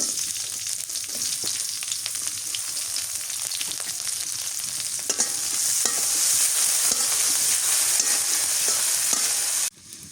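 Onion and green chili frying in hot oil for a bitter gourd curry with dried fish, in a village kitchen: a loud continuous close sizzle with scattered stirring scrapes, swelling louder partway through and cutting off abruptly near the end.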